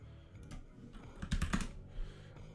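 Quiet, close computer keyboard typing, a short burst of clicking keystrokes with a denser cluster in the middle, heard alone at low volume.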